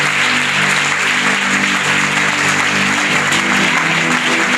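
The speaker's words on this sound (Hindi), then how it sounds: "भाई दाऊद के लिए भी जोरदार तालियां बजानी है आपने।" Loud, sustained applause from a church congregation fills the hall, the many hands clapping in a dense, steady wash that stays at full strength for several seconds.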